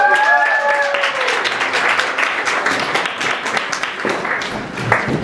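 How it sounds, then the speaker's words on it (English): A campus evening gathering breaks into a round of applause, with a brief high cheer at the start over steady, full clapping from a crowd that fades slightly near the end. "Can we give that a round of applause?"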